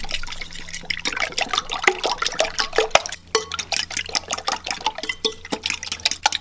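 Cracked eggs seasoned with fish sauce and black pepper are mixed briskly in a bowl, a close, rapid run of wet sloshing and clinking strokes that continues throughout.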